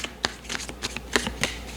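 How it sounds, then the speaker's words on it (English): Tarot cards riffle and snap against each other in a quick shuffle, a series of crisp, close papery slaps and flutters. "I'm getting the message to do one more shuffle"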